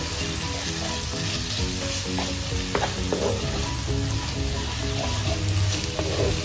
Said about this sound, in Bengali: তারপরে দিয়ে দেবো হচ্ছে এই মিক্স চিকেনগুলো, দিয়ে দিলাম মিক্স চিকেন